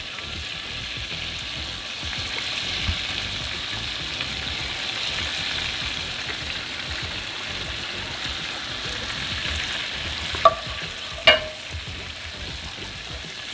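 Garlic shrimp in lemon butter sauce with cilantro sizzles in a pan with a steady, even hiss, and two sharp utensil clicks come near the end.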